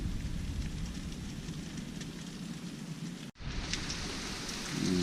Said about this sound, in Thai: ฝนก็ตก